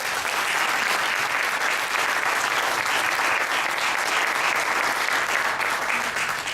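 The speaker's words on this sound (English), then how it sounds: "So in his absence, can we give Frank a round of applause?" A crowd at a press club forum claps steadily and loudly, sustained applause filling the room without pause.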